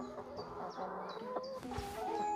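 Several chickens cluck and murmur softly nearby in the German countryside, quiet overlapping clucks with a few rising calls over a faint background.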